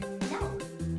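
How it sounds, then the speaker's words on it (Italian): A puppy yips and barks in short, high bursts, a few quick calls close by, over a steady background of music and cartoon sound. "Un cagnolino!"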